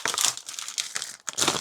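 Long paper envelopes are handled up close, giving dense crinkling and rustling bursts that pause briefly before another flurry of paper crackle.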